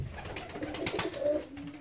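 Pigeons coo softly in an aviary, low repeated throaty calls close by with no talking over them.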